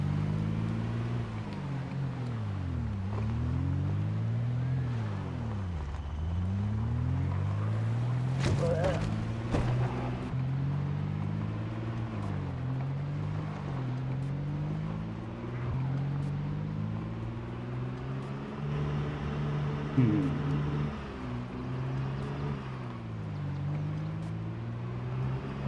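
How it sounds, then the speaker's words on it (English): A loud truck engine in a video game drones steadily, its pitch rising and falling as it revs, with a muffled voice now and then. "This truck is quite loud, though."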